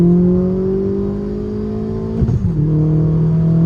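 An Opel Calibra race car engine drones loud and close under load, its pitch climbing steadily, then a brief roughness as the gear changes before the tone settles lower.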